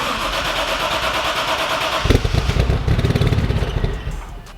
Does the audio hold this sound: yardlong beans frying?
no